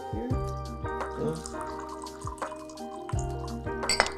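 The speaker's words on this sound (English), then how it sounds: "It's like a 4-second pour." A drink is poured into a glass for about four seconds, making soft liquid trickles and drips. Short clinks come through and the sound stays fairly quiet and close.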